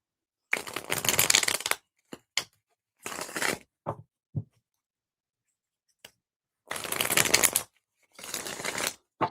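Pope Fiction tarot cards are shuffled in several quick riffling bursts, close and crisp, separated by short pauses and a few light taps, with no voices.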